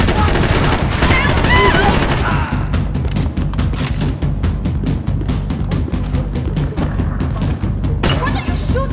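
Gunfire in the video game Max Payne 3: a dense fusillade of rapid shots, some machine-gun bursts and heavy thuds, loud and close, with brief game voices mixed in among the shooting.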